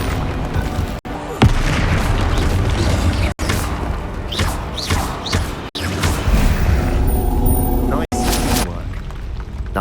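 Bombarda spell blasts in the video game Hogwarts Legacy, a series of heavy booming explosions over continuous game music and effects, with brief gaps between blasts.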